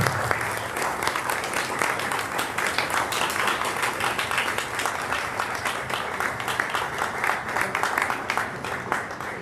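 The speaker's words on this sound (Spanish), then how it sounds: "Un aplauso para ustedes." An audience at a book presentation breaks into sustained applause, dense clapping continuing evenly for the whole stretch, with faint voices beneath.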